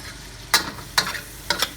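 Garlic hits a hot pan while Asian string beans adobo with pork and Spam is cooking, giving three short, sharp sizzling bursts as it is stirred in. The sizzle comes across quiet and close, with no talking.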